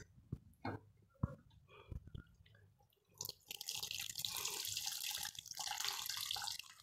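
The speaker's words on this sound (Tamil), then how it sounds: "ஸோ இந்த டைமில் நம்ம புளி ஊற்றலாம்." Tamarind water poured into a simmering vegetable kuzhambu, a few splashes and drips at first, then a steady hissing pour running close by.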